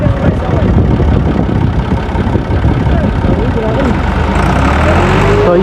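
A tractor engine runs steadily and loudly throughout while a trolley of wheat is unloaded at a field threshing site, with a voice speaking over the continuous rumble.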